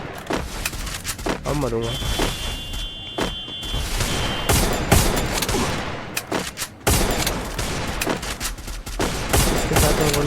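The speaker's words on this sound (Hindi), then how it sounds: "लगातार गोली मार रही थी ये मेरे, देखना" Video game gunfire crackles in rapid bursts and volleys throughout, with sharp repeated shots and booms, while someone speaks briefly over the action.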